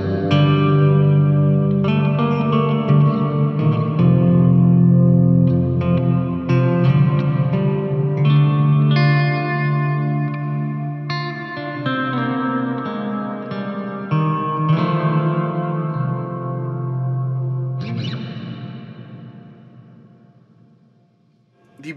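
Electric guitar played through a Biyang hall reverb pedal, with notes and chords that bloom into long, warm reverb tails and a final strum that fades out slowly.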